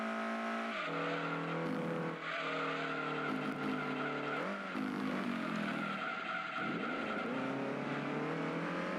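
Nissan 300ZX race car from Gran Turismo 2, engine droning loud and steady with gear-change pitch shifts and tire skids, continuous throughout without talk.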